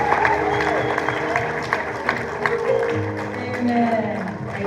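Audience applause at a graduation ceremony, a dense, steady wash of clapping from a crowd that carries on for the whole stretch, with voices and a few cheers mixed in.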